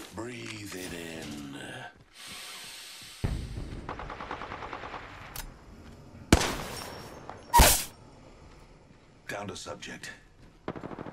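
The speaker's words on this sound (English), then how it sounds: "Listen up, I'm getting shot at." Video game gunfire aimed at the player: loud bursts of rapid shots and single sharp cracks break in repeatedly, mixed with game noises and a voice talking.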